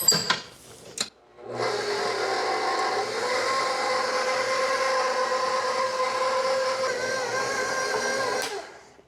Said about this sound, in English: So we're going to mix this for about 7 minutes